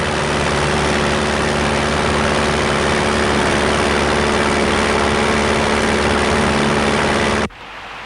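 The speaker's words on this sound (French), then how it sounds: "Quelque chose qui cafouille, je vous signale. Je sais, c'est le moteur." A vehicle engine runs loud and close with a steady low rumble and drone for several seconds, then cuts out abruptly, with no speech over it.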